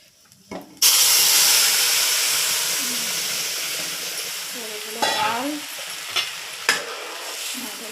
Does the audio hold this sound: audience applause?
no